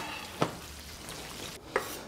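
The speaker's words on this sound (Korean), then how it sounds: "표고버섯을 먼저 볶기 시작하면 됩니다." Shiitake mushrooms stir-fry in truffle oil with a soft continuous sizzle, punctuated by two distinct clinks of a utensil against the pan, with no speech.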